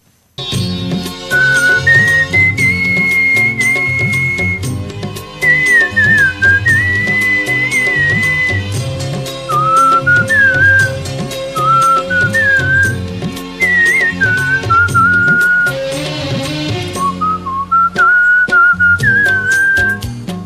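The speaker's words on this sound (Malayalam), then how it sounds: "എറണാകുളം കൂത്താട്ടുകുളത്ത് ചൂളമടിച്ച് ശ്രദ്ധേയനായ ഒരച്ഛനും മകനുമുണ്ട്" Melodic human whistling by a record-holding father and son from Koothattukulam, Kerala, a clear, loud tune of sliding and held notes running in long phrases with short breaks, sounding alone without speech.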